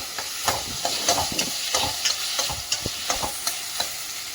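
Tomatoes and coriander leaves sautéing in a pan for pongal, with a soft steady sizzle under rhythmic scraping strokes of a spoon, roughly two per second, close and clear.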